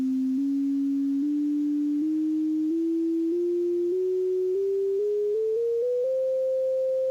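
Serum software synthesizer playing a pure, clean sine-like tone that steps upward one semitone at a time, about a dozen even steps over several seconds; loud, steady and alone.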